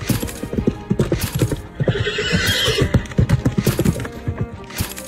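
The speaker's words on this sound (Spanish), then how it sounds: "Una yegua galopó a 58 km por hora" A mare galloping at about 58 km/h across a line of tripwires, hooves beating a rapid, close clip-clop rhythm with a brief whinny mid-run before the hoofbeats return.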